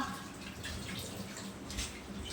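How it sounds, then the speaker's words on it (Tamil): Hands being washed under a running tap at home after frying bondas, a steady moderate stream of water with faint splashing throughout. "ஹேண்ட் வாஷ் பண்ணிக்கிறேன்"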